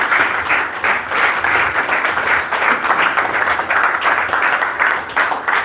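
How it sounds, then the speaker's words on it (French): An audience applauding David at a French-language church-style gathering, dense steady clapping that fills the room, loud and sustained throughout without pause. "Applaudissons pour David, le serviteur."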